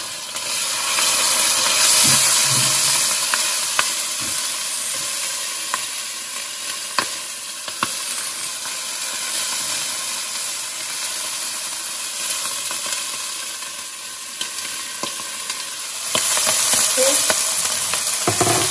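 Onions fry in a pan with curry leaves, ginger, garlic and sambal, giving a loud continuous sizzle and hiss with occasional stirring clicks, no voices.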